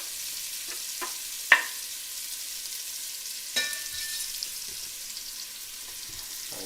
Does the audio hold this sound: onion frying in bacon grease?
yes